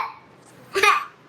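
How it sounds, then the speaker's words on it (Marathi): A single short sneeze from a woman with a cold bursts out after a quiet stretch, close and fairly loud in an indoor home setting. "बघ मम्मा शिंकते, मम्माला सर्दी झाली आहे बेटा."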